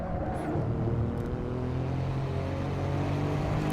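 An Alfa Romeo Giulia Quadrifoglio engine in Assetto Corsa drones steadily under load, a continuous close rumble with faint tire noise and no talking.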